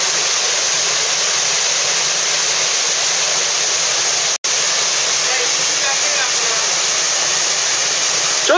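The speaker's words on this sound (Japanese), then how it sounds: "今日の黒滝水量多しです。" Kurotaki waterfall in Boso runs with high water flow, a loud, constant roaring rush that fills the whole clip and breaks only for a split-second dropout midway.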